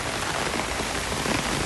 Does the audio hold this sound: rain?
yes